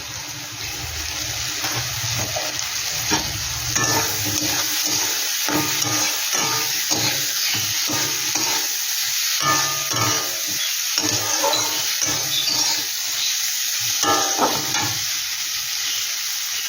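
Green chilli, capsicum and onion stir-fry for prawn malai curry, a steady loud sizzle punctuated by repeated scraping and knocking of a spatula against the pan, heard up close without speech.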